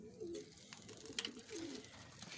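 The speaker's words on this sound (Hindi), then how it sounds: "ये देखिए, अच्छे से अच्छे कबूतर।" Pigeons coo in a loft in Sukkur, soft low throaty calls repeating in a couple of rolling phrases over a dull background hum with faint scattered rustles.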